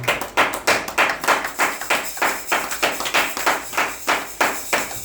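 A church congregation claps in unison to acclaim the word of God. About three loud, even claps fall each second in a steady rhythm that runs the whole time, with no talking.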